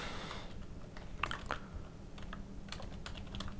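Typing HTML code on a computer keyboard: soft, scattered key clicks at an uneven pace, quiet and close, with no talking.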